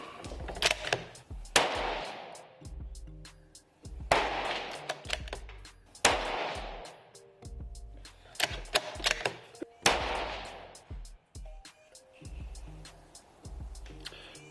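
A Savage B17 MDT precision rimfire rifle in 17HMR fires at a range toward a 100-yard target, each sharp crack well spaced with a few seconds' pause, interspersed with the clicks of bolt cycling and no talking.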